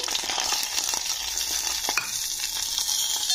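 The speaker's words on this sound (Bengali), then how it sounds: "তো এবারে তরকারিটাকে একটু ভালো করে ভেজে নিতে হবে" A brinjal curry with whole cumin fries in a pan, giving a loud, continuous sizzle with light stirring scrapes throughout.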